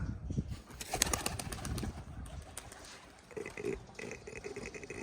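Pigeons kept for pigeon flying in the Malwa region of Punjab take off, with a burst of fluttering wings near the start followed by softer bird sounds and cooing, close by and without talk.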